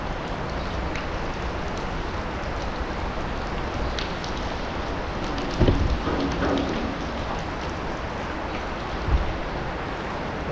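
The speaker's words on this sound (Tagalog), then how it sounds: "Maulan pa rin po dito. 2 araw na umuulan." Steady rain falls continuously outdoors near a fishing spot during a flood, a dense even hiss with a couple of brief louder knocks, no voices.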